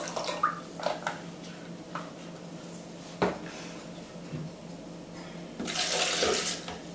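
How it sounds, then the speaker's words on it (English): Coconut water pours into a container with a bright splashing rush near the end, preceded by a few small knocks and clinks. "So I'm going to be putting 300 millilitres of coconut water in."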